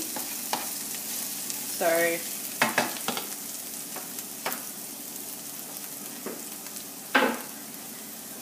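Mushrooms, onion and vegetables for a pizza sizzle steadily in a pan, close and moderately quiet, with occasional scraping stirs and a brief spoken word.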